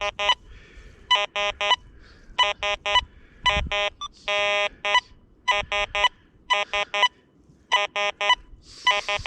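A metal detector sounds repeated high electronic tone bursts in quick clusters as it sweeps over a dime buried about 4.75 inches deep, loud and close, with a faint voice underneath.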